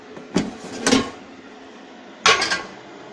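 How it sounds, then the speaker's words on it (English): Sweet potato and pumpkin pieces dropped into an air fryer basket: three close, hard clattering bursts separated by short quiet gaps, with no talk. "So now we're going to add these two, the sweet potato and the pumpkin, into our air fryer."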